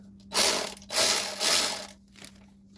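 A ratchet wrench torques a bolt on a Manco Thunderbird minibike in three close, rasping bursts, followed by a fainter fourth stroke, with a steady low hum underneath.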